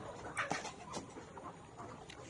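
Layer pullet chickens cluck softly in short, scattered calls against a quiet background hum.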